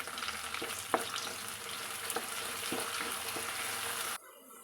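Onions and curry leaves fry in a pan with a steady, close sizzle, broken by a few clinking stirs of a spoon against the metal, before the sound cuts off sharply near the end.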